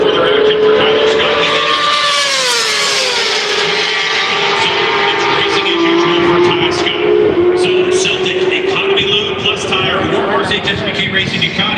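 Racing motorcycles at the Daytona 200 roar past in a tight pack of six or seven bikes, a loud sustained engine whine rising and falling in pitch as they pass, with a commentator talking over it throughout.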